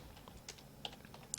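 Quick, light keystrokes on a computer keyboard as a command is entered in a Kali Linux console, a close, quiet run of soft clicks with no talking.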